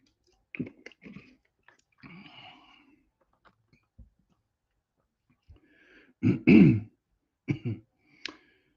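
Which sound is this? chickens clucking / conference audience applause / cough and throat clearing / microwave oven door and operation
cough and throat clearing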